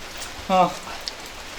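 Rain falls outside near Tögi Goli in North Nias as a faint, even hiss, briefly interrupted by a single voice partway through.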